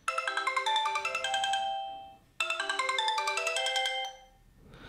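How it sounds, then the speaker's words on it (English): A Sony Xperia M smartphone plays its ringtone at full volume through the built-in speaker: a bright, plucky melodic loop heard twice, with the second run starting after a short gap and each pass fading out at the end. "let's just play your ringtone for example's sake"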